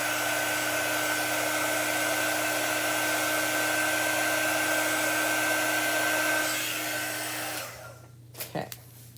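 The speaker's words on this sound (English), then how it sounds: "Let's get our quick dry tool." A handheld quick dry heat tool blows a steady, loud rush of air over chalk paste on a craft project, then cuts off near the end, leaving a couple of soft knocks.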